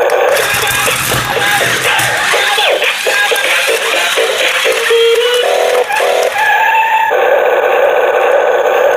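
A toy RC car plays loud built-in music and electronic sound effects, dense clattering tones shifting into sustained beeping notes near the end, continuous throughout with no talk.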